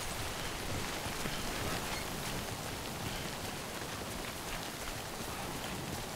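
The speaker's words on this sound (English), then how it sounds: "Let's just get out of the rain." Steady rain hisses in the Death Stranding video game, an even, continuous downpour throughout with no speech.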